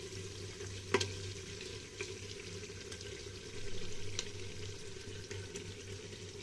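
Mutton pieces going into a pan of lightly cooked garlic, heard as a soft, steady sizzle with occasional stirring clinks and scrapes, close by but fairly quiet.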